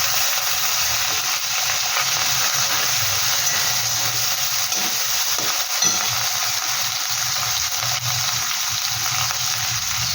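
Tomato, onion and ginger paste fry and sizzle in a pan with a steady, close hiss that holds throughout, stirred now and then.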